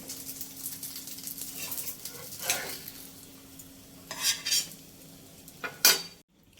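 Aloo kulchas fry in a pan beneath soft, close sizzling, broken by metallic scrapes and clatters of a spatula and utensils, with a louder clank near the end.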